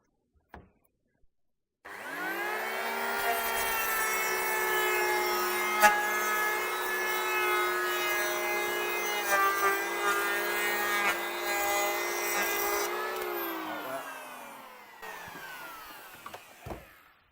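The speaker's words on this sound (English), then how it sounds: "So you just sit that on the corner of the wood, run it along." An electric planer runs along the corner edge of a wooden deck beam, giving a sustained, high-pitched whine mixed with a rough cutting rasp for about twelve seconds, then spins down and stops.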